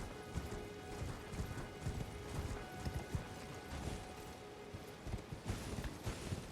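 Rapid hoofbeats of a horse trotting in the video game Elden Ring, irregular clip-clop thuds with faint background ambience, moderately quiet and continuous.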